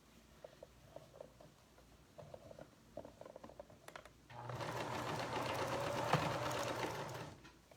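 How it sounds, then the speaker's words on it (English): A sewing machine stitches a primitive doll dress. Soft ticking and handling clicks come first, then a brisk, steady burst of machine stitching runs for about three seconds and stops. "We're sewing all the way around the inside of the shirt."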